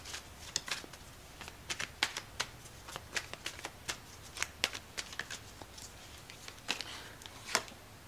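Tarot cards shuffled by hand during a reading, a steady series of soft riffling flicks and slaps, close and fairly quiet, with no talking.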